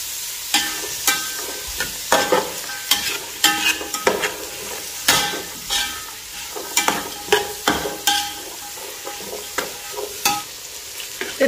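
Vegetables sautéing in a pan for chicken fried rice, a steady sizzle broken by repeated sharp scrapes and clatters of a spoon stirring, roughly one stroke every second, close and fairly loud with no voices.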